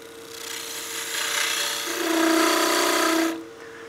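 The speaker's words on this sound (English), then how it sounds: "I'm gonna use my skew, do a little peel cut here" A skew chisel takes a peel cut on wood spinning on a lathe, giving a rising, steady shaving hiss that swells, holds for about a second, then stops sharply; no talking.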